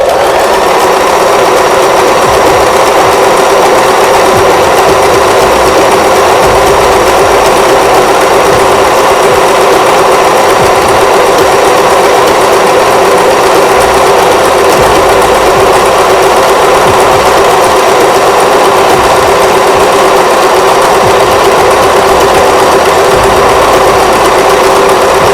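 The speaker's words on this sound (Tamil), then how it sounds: "இப்போ நான் ஸ்டிச் போட்டுக்கிறேன்." A Singer Start 1306 sewing machine runs a decorative zigzag stitch, its loud, fast, steady mechanical whir continuing close up and without a break, with no talk.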